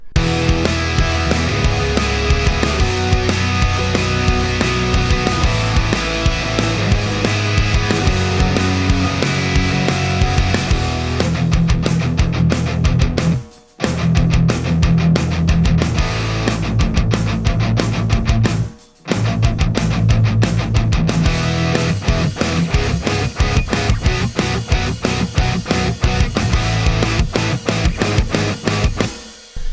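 An electric guitar plays with a finished, polished tone inside a dense full band mix, loud and continuous with two brief dropouts where the music stops for a moment.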